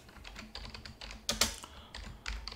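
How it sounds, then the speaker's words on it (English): Someone types on a computer keyboard while working in LibreOffice 7.6 on Linux Mint 21.2 Cinnamon. The keys click close by in quick, uneven bursts, with a couple of louder strokes near the middle, and nobody speaks. "I'll keep typing."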